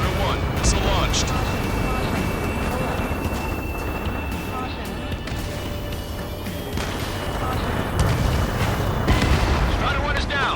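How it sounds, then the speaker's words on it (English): Missile launch and blast in the jet combat game Ace Combat 7, a continuous loud roar of engine and explosions running the whole way with heavy booms near the end, under radio chatter. "Strider 1, missile launched."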